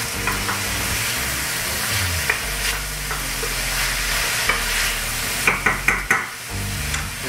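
Garlic and shallots sizzling and being stirred in a hot restaurant pan, a steady close frying hiss broken by several sharp scraping clinks of the utensil near the end, with no voices.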